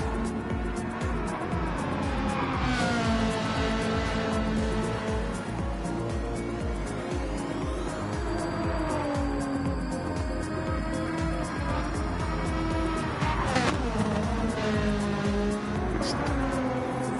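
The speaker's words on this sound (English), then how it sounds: "that Ferrari makes a great noise, doesn't it?" A Ferrari race car engine in a GT3 racing game at Bathurst wails loudly and continuously, pitch rising and falling through gear changes and braking, with tire squeal and commentators talking over it.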